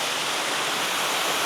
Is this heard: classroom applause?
no